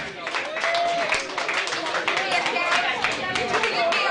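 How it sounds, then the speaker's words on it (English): Audience applauding dancers at an event in Macroom, steady dense clapping from a crowd sustained for several seconds, fairly close and loud. "Give Dance a big round of applause for the girls."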